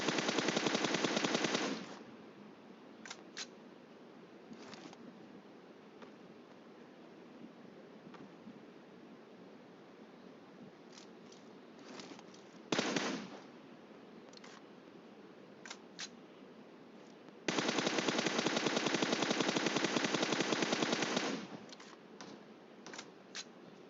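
PUBG Mobile gunfire sounds as bursts of rapid automatic shots, a long burst at the start, a short one near the middle and another long stretch later, with scattered single shots between and no talking.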